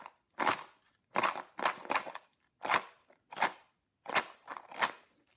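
A homemade plastic shaker filled with almonds is shaken in sharp rattling bursts, about seven or eight crunchy strokes in an uneven rhythm, close and fairly loud with quiet gaps between them.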